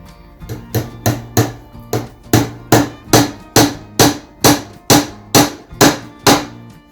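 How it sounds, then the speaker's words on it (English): Rhythmic hammer strikes, about a dozen evenly spaced metallic whacks, loud and close, driving in fencing staples while building a seedling shelf in a greenhouse. "So, gonna hammer in."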